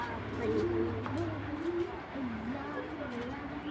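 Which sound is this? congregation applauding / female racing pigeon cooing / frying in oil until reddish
female racing pigeon cooing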